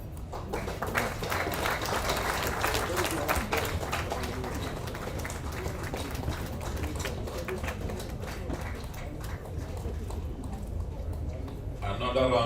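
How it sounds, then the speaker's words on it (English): Sustained audience applause after a long lecture on Nigeria's constitutional architecture, a dense, steady roar of clapping filling the hall with no let-up. "Another round of applause, please."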